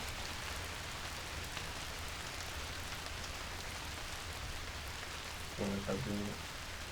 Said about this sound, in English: There's rain. It do be raining.